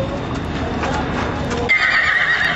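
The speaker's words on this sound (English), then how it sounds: "Here comes some more horses." Horses are being loaded in at a state fair Wild West show. Hooves clop and a horse neighs amid loud crowd and fairground bustle, with a whinny-like sound rising clearly near the end and people talking.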